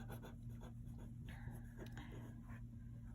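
Pencil or pen scratches across paper as a name and date are written by hand, soft, close scratchy strokes in short bursts over a faint background.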